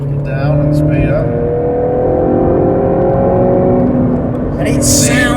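A Mini Cooper S engine in sport mode roars loudly and steadily, its pitch climbing as it accelerates, with a brief voice near the start and end.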